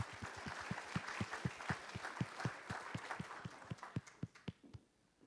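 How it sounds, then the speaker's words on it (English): A church congregation at a Father's Day service claps in rhythmic unison, a steady beat of close hand claps over general applause that fades out near the end. "Let's give him a round of applause."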